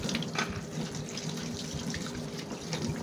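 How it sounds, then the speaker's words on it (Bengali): Beetroot rinsed under a running kitchen tap, a continuous even splash of water close by, with no voices. "তো আমি বিটরুটটা প্রথমে আমি ধুয়ে নিছি ভালোভাবে।"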